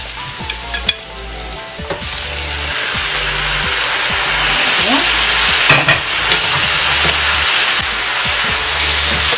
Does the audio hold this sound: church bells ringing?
no